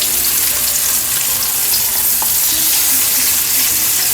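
Sea bass frying in a pan spatters in a loud, dense, continuous sizzle close up, with no voices over it.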